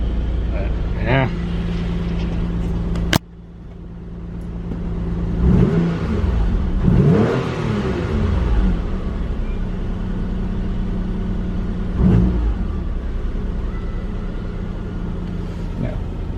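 A rebuilt 2000–2005 third-generation Mitsubishi Eclipse engine idles slightly high while cold, a steady close rumble with a couple of swelling revs, under someone talking.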